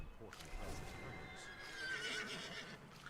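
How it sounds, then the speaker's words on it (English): A horse in a video game whinnies with a bright, drawn-out neigh over light hoof clatter, with a voice talking over it. "Let's get on our horsey."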